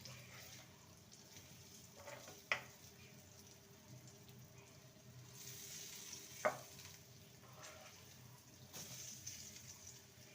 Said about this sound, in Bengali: মিডিয়াম ফ্লেমে বেগুনগুলোকে ভেজে নেব